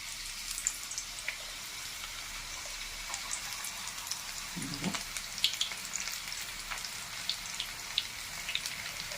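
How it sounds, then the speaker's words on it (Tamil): Peanut pakoda batter fries in hot oil, a soft continuous bubbling sizzle with scattered crackles and a brief low clunk midway, fairly faint and with no talk. "இப்போ நான் வந்து பக்கோடாவாக போட்டு பொரிக்க போகிறேன்"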